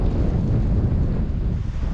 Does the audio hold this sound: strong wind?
yes